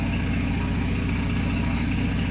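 An Audi S5 Sportback engine idles steadily during an oil change, a constant low throbbing rumble heard close and alone, with no talk.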